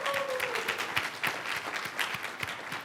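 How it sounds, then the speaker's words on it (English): An audience gives the production team a round of applause, with a thin, fairly quiet spread of clapping and a few distinct nearby claps over a short stretch. "I'd like for us all to give the GCJ production team a round of applause."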